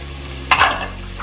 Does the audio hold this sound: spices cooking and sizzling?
yes